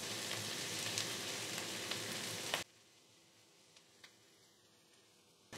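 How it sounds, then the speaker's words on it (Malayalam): Onions, curry leaves and green chillies sautéing in a pan for a Kerala cauliflower mappas, loud steady sizzling and frying for about two and a half seconds that then drops to a faint low crackle, no talking. "ഈ ഒരു സൈസിൽ കുറച്ച് കറിവേപ്പില, പിന്നെ മൂന്ന് പച്ചമുളക്, ഇതെല്ലാം കൂടെ ഒന്ന് വഴറ്റാം."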